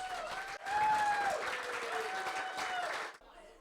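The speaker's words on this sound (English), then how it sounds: "Please give them a round of applause." A burst of applause from a crowd at an architecture awards presentation, steady clapping that swells quickly and holds for a few seconds before cutting off.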